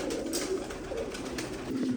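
Pigeons coo softly and repeatedly close by, low throaty calls rolling one into another over a quiet background.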